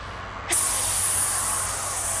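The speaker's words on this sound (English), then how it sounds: "A hissing sound like this." A sudden hiss of rushing air bursts in for a radio drama, a sharp onset followed by a steady, loud, high spray that holds without voices.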